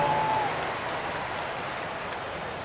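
Steady crowd applause in an NBA 2K23 basketball video game, a dense wash of clapping at moderate distance that continues without a break.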